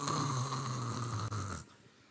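A voice imitates loud snoring: one long, rasping drawn-out snore close up, which cuts off abruptly into near silence.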